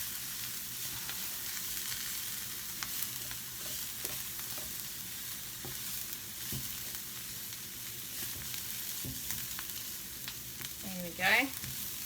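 A mushroom and bean burger mix sautés in a pan while being stirred, a steady close sizzle with occasional scrapes, and a brief rising tone near the end.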